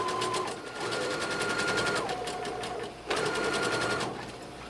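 A sewing machine runs a zigzag stitch along the raw edge of fabric for a pillowcase dress, a fast steady mechanical whir with rapid needle ticking, pausing briefly once before resuming, close and without voices.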